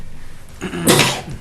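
A single sneeze bursts out in a meeting room, loud and close, with quiet room tone before it and a short tail of noise after.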